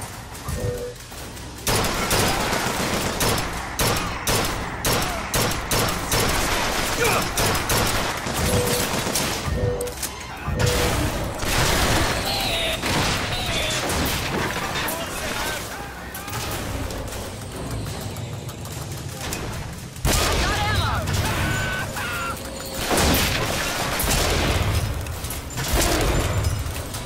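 Bioshock Infinite combat stays loud and busy throughout, with repeated explosions and bursts of gunfire stacked over one another in a steady barrage.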